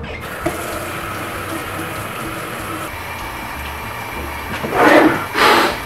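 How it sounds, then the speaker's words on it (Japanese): Tap water runs at a sink as hands are washed, a steady wash through most of the stretch, then two louder bursts of splashing near the end; no talk is heard. "初めて手を洗ってください。"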